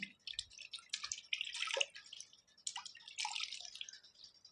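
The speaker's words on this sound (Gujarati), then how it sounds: "પાણીમાં આપણે કેળીઓ મૂકી દીધી છે હવે આપણે હાથેથી એકદમ મસ્ત રીતે સાફ કરી લઈએ" Desi mangoes are rubbed clean by hand in a vessel of water, giving soft, close splashes and drips in irregular bursts with no talking.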